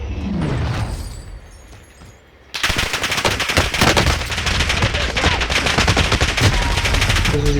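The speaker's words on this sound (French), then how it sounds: "Il me tire dessus." Machine gun fire in the Modern Warfare shooter game: after a quieter opening, dense rapid bursts of automatic gunfire erupt and rattle on loudly and continuously to the end.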